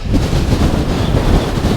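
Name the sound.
strong wind on hilltop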